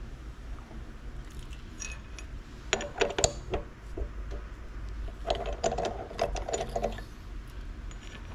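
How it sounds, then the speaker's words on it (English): Metal threads being cut with a hand tap in a carriage lock part, giving bursts of clicking, ratcheting and grinding from about 3 to 7 seconds over a low steady hum, fairly close and moderately loud. "I'm going to pull you back a minute and get my tap set in there."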